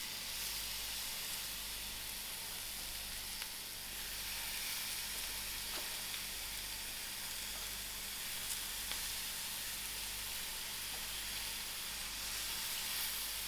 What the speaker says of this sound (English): Thereafter, I'm going to add in my spinach.